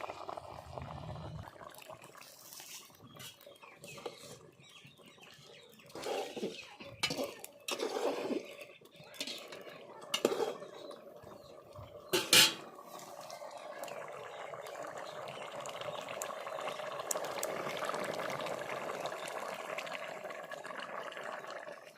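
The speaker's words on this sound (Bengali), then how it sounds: "এবার জল দিয়ে দিব।" Water poured into a pot where goat head is cooking in ground spice paste: a few close metallic clanks and scrapes first, then a steady rushing pour and hiss that builds through the second half, moderately quiet, with no talking.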